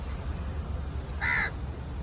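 A single loud, harsh caw from a hungry crow at a roadside rings out once, close by, over a low rumble of traffic and ambient outdoor noise.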